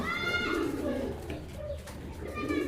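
Fancy racer pigeons, both local and foreign breeds, cooing softly at close range in a loft, low repeated coos with bird calls over a steady background hum.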